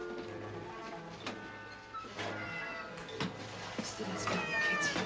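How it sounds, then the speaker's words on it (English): A cat meowing in a cellar, several faint, drawn-out meows scattered over a few seconds, with quiet voices and background noise around them. "Leutnant Meyer, fangen Sie mir doch mal die Katze ein."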